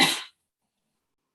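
A single short cough bursts out close and sharp, then cuts to silence.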